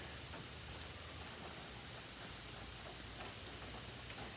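Steady rain falls in a quiet spot where someone sits reading and smoking a pipe, a soft, even patter with a few sharper drip ticks and no voices.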